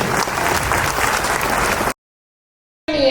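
Loud crowd applause for a chief guest at a college social gathering fills the first two seconds, then cuts abruptly to silence before a brief noisy return at the end.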